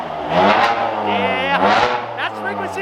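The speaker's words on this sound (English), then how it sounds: "Couple revs" A Bentley's engine blips through a couple of short revs close by, the pitch rising and falling twice in quick succession before dropping back toward idle.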